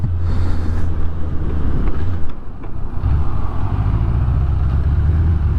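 A Suzuki Bandit 600 motorcycle engine idles poorly, a loud, close, low rumbling idle that dips and wavers unevenly partway through instead of holding steady.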